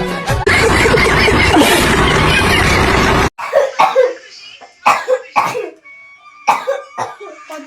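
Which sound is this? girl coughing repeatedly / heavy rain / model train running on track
girl coughing repeatedly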